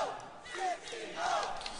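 A large esports arena crowd at a CS:GO grand final in New York roars and shouts in a steady, distant wash of cheering, with no clear speech.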